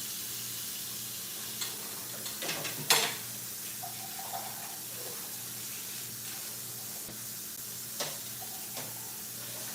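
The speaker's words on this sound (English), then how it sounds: "Wash all the beans." Beans are washed in water for a stew chicken and red bean cookup rice, with a quiet running trickle, a few clattering knocks of pot and utensil, and soft splashes, no talking.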